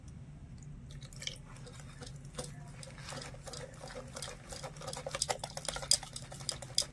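Rice flour batter being stirred by hand with water added bit by bit, giving soft wet sloshing and patting strokes in an irregular rhythm, close and moderately quiet, growing busier and sharper toward the end.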